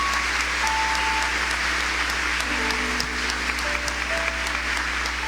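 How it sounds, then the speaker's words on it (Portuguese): A church congregation applauds at a worship service, a steady, dense wash of clapping that holds evenly loud throughout with no voices rising above it. "pode aplaudir o Senhor"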